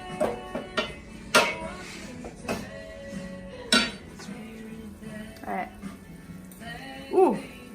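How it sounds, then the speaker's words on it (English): Roasted radishes in brown butter being stirred in a pan, with scattered utensil clinks and scrapes against the pan, while someone talks over the cooking. "then you stir it around, and you can taste it"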